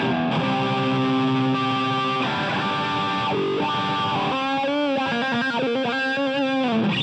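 Electric guitar played through a BOSS GT-8 multi-effects processor with distorted, effects-heavy tones, a steady run of chords and melodic lines that change character partway through, loud and close with no talking.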